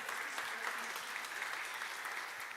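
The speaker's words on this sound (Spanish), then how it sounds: "Dale ese aplauso al Señor." A church congregation claps during a Sunday service, sustained steady applause from a sizable crowd, heard somewhat distant and fairly quiet.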